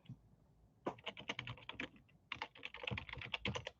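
Fingers type on a computer keyboard in two quick bursts of close, crisp keystrokes separated by a short pause, with no voices.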